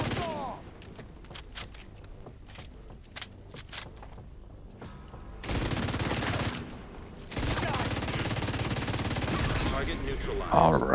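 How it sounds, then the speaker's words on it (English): In a video game, sharp bursts of rapid gunfire crackle, first as scattered shots and then as sustained loud volleys, with voices talking in between. "Hey, no shooting from behind"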